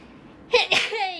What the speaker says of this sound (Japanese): 待って、くしゃみです。